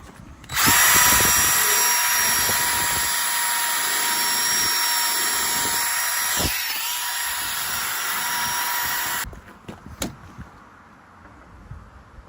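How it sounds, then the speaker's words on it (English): A loud, high-pitched electric drill cleans the exhaust tips of a Renault Clio 182, whirring steadily for about eight seconds, with a brief pitch dip midway, then cutting off into quiet clatter. "I couldn't let the dirty tips on the exhaust stay like that, so I've got the drill."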